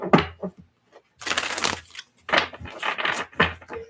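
A deck of tarot cards is shuffled in several separate bursts of riffling and rustling, close and fairly loud, with short quiet gaps between them.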